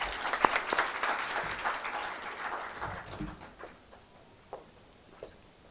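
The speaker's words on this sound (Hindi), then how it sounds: "जोरदार तालियों से इसकी हौसला अफजाई की।" Applause from an audience at a Hindi poetry gathering in Mumbai, strongest at first and thinning out into scattered claps over several seconds, moderately distant in a hall.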